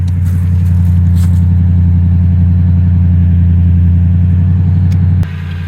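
A high-mileage Toyota Tundra truck engine idles after a cold start, a steady, loud low rumble with a fine rhythmic chug that holds evenly, then drops slightly in level near the end.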